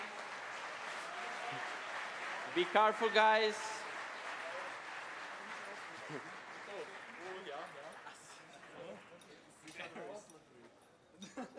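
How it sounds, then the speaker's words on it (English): Applause from the audience at a 2024 cybersecurity championship award ceremony, a sustained clapping bed across the hall with a brief louder burst, while a presenter keeps talking over it. "One big applause for them to greet them."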